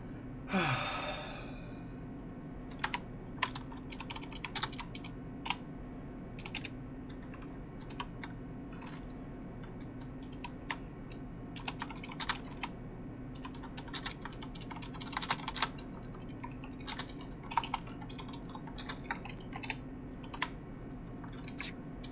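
Fingers tap steadily on a computer keyboard, a close run of quick clicks and keystrokes over a low background hum, with a short sigh near the start.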